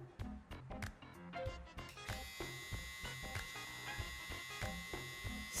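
A Lence Pro hair trimmer, freshly oiled, runs steadily after switching on around two seconds in, giving a continuous close electric hum under a few soft taps and handling clicks.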